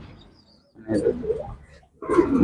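A pigeon in a loft in Kannur gives two short, low cooing bursts close by, with a voice talking around them.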